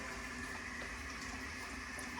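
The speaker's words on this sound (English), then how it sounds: "We got water flowing." Water runs steadily from the tap of a temporary kitchen sink, a constant rushing hiss with no pauses, heard up close.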